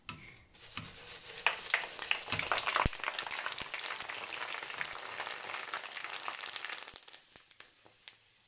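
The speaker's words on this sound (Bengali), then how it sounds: "বাকি সব মুড়িগুলোই একইভাবে ভেজে নিতে হবে" Puffed rice (muri) tossed and fried in a hot pan at home, a dense continuous crackle and rustle of grains with scattered sharp pops, steady and close throughout.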